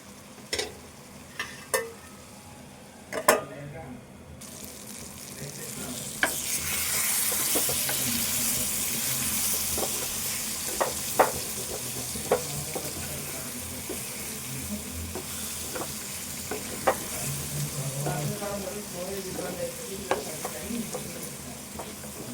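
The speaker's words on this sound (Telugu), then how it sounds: "ఏ కూరలైనా ఇది ఇంకా వేగాలి, దగ్గర వేపుకోవాలి." Chicken pieces sizzle and fry steadily in a pan while a spoon scrapes and stirs them, producing repeated sharp clinks over a continuous hiss.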